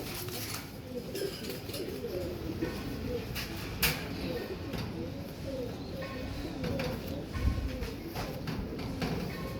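A pair of tiger breed pigeons coos in repeated low, rolling calls over a busy, noisy background, with occasional sharp knocks.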